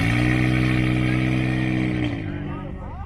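A Nissan 1400 car fitted with a swapped 4AGE 20-valve engine and straight pipes, revving hard and loud up close with a steady rasping drone that drops off near the end, a voice talking over it.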